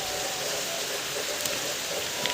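Steady rain patters down in a village setting, a dense, even hiss holding at moderate level throughout with no voices.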